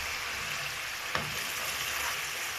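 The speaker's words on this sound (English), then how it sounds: "the oil is still cooking, and it's getting less and less as it forms the oil" Coconut oil cooking down in a pan sizzles and bubbles steadily at close range, with one brief scrape or clink partway through and no talking.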